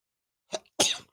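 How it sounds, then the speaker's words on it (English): A sharp, close sneeze from a man on a sports talk show, a brief intake of breath followed by one loud explosive burst, with no talking in between. "That was a something nose hair tickled me sneeze."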